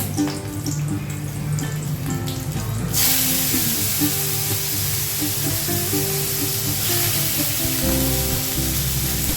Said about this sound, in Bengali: চিচিঙ্গা, আলু আর পেঁয়াজ সব একসাথে দিয়ে দিলাম। দিয়ে এবার ভাজবো একটু।